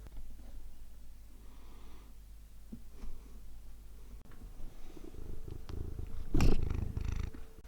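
A neighbour's cat purrs close by in a steady, low, rhythmic rumble that continues throughout. Soft rustling and a louder brushing burst rise near the end.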